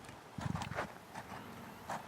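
Horse in a riding lesson trots with close, rhythmic clip-clop hoofbeats, a rapid cluster of strikes followed by lighter steps, fairly faint against a quiet arena background.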